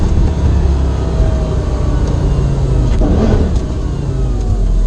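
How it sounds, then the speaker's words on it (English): A Lamborghini Gallardo engine drones steadily from inside the cabin, then briefly rises in pitch as it revs during a downshift, with road noise throughout. "But if I downshift a little bit, you can hear it pretty good."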